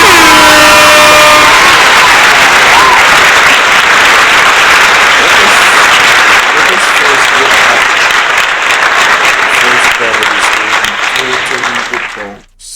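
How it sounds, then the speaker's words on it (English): A large crowd applauds loudly and continuously at a Jamaican parliamentary budget presentation by Julian Robinson, with cheering and a blaring air horn at the start; the dense roar holds steady before cutting off abruptly at the end. "let's give this man a round of applause before we even begin"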